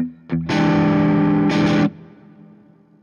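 A loud, distorted electric guitar chord through a Friedman Runt 20 20-watt EL84 tube head with the gain turned up rings out, struck twice in quick succession, then fades with a gritty amp tail.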